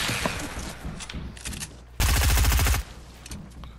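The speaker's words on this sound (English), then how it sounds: "We're getting shot by somebody else" Burst of automatic gunfire in Fortnite on PS4 during a squad match, a loud rapid volley lasting under a second amid quieter ambient game sounds and scattered distant shots.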